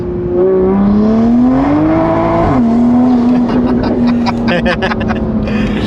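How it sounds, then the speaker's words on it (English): A Jeep Trackhawk accelerates hard, its engine roaring loudly as the pitch climbs, drops at a shift and then pulls on steadily. A voice sounds faintly over the constant close engine drone. "You gotta give me one more pull on this car before I get out of it for the last time."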